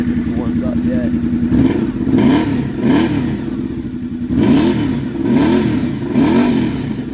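A motorcycle with its stock exhaust replaced by a gauge pipe runs loud and close while warming up, its engine rising and falling in repeated revs over a rough idle.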